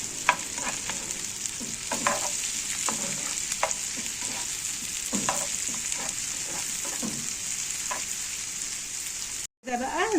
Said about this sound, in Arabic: زي ما انتم شايفين خلاص البصلايه اتشوحت مع قرن الفلفل مع فص الثوم